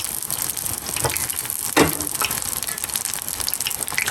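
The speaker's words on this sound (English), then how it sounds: "So we got the fish frying" Steady crackling sizzle of fish frying in hot oil, a continuous hiss with small pops and one sharper spatter burst partway through.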